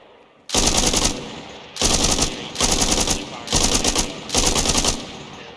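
A machine gun fired in Arma Reforger in five loud sustained bursts separated by short gaps, each a rapid rattling stream of shots, with only faint background noise between them.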